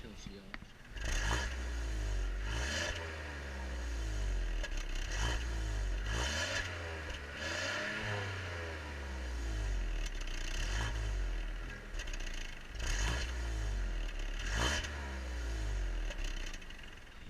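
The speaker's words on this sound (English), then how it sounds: "So now let's give it a quick start up," A small 3-cylinder petrol engine in a Citroen C3 cranks and catches, then settles into a steady, low rumbling idle with some lumpy revving, close by.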